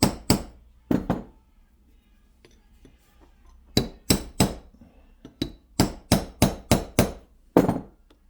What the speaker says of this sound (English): Now, carefully along the edge, knock it down to where it's seated.